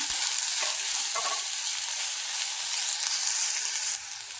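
Chopped taro stems stirred into cooking beans for a Kerala-style dish, a continuous bright hissing sizzle with a couple of soft stirring knocks early on, then quieter toward the end.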